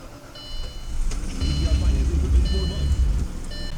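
A 1999 Audi A8 Quattro engine idles steadily just after starting, a low, even rumble close by. Repeated electronic warning chimes ding over it at intervals.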